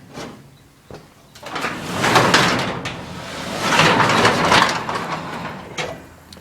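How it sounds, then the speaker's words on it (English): A shop or shed door on a garden tractor collection building is pushed open, giving a long broad rumbling slide with scraping and rattling in two surges, close and fairly loud, with no talk. "Go ahead and open this door."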